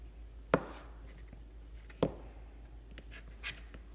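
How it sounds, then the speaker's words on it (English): A knife slicing bell pepper pieces into strips on a cutting board, giving two sharp distinct chops about a second and a half apart, then a softer third tap, in a quiet kitchen. "We just cut them into strips."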